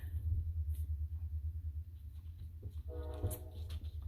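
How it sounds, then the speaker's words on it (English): A train passes in the background, a distant, steady low rumble throughout with a brief faint tonal sound near the end, and no talking. "sorry about the train"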